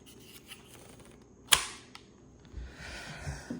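A plastic toy plane launcher's hook pulled back to reload, giving one sharp click with a quick mechanical snap, followed by a fainter tick and soft handling rustle, close and without talk.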